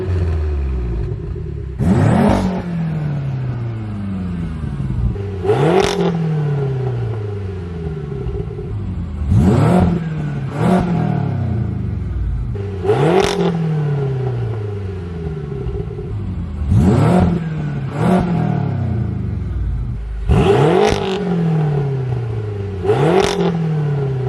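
A tuned BMW F10 M5's powerful engine starts and loudly revs in repeated sharp bursts, each rising roar dropping back to a deep, rumbling idle, with no talking.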